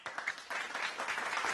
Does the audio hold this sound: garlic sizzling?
no